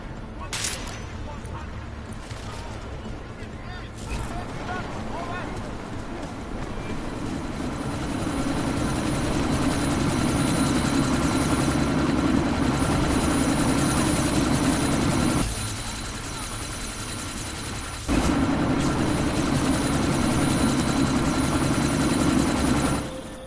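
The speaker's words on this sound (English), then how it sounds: "That chopper's about to take off" A helicopter spools up and takes off in a PS4 video game, a loud continuous rotor drone that swells partway through, briefly drops, then returns, with occasional gunfire-like bursts near the start.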